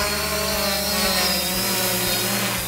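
A Fimi X8 SE drone buzzes in flight, its propellers giving a loud, steady whine with tonal harmonics that shift slightly in pitch, heard alone without talk.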